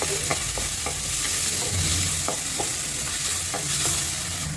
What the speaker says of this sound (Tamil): வெங்காயம் நல்லா ப்ரௌனாக வதங்கணும்.